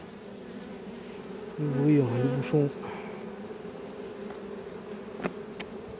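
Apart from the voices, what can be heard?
honeybees buzzing in an opened hive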